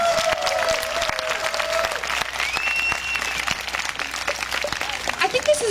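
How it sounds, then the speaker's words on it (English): An audience at an outdoor rally against a pipeline expansion breaks into sustained applause, dense steady clapping mixed with whistles and cheers, with voices audible through the crowd noise. "Let's give them a round of applause."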